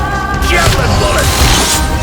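Repeated javelin bullet attacks from the Absolum video game fire off as a dense barrage of booming impacts, loud and continuous across the two seconds with a layered game soundtrack underneath.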